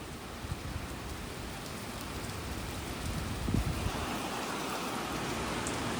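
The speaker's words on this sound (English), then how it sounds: "I don't care if it's raining because I'm gonna be out there pressure washing anyway, but I kind of just want to wait because these are big raindrops" Rain with big drops falling outdoors, a steady close hiss of drops hitting surfaces throughout, with a few heavier splats and low rumbling wind, no voices.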